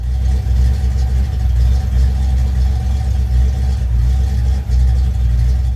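Car engine fitted with a B-cam camshaft, likely a Volkswagen Fox, running close and loud with a deep, choppy lumpy idle and slight throttle swells, steady low rumble throughout.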